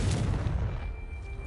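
A Confringo fire spell blasts in Hogwarts Legacy, a loud booming burst with dense low rumble that fades slowly over a second and a half, no voices.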